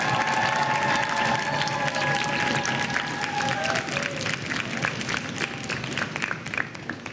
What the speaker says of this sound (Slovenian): En aplavz za obe ekipi.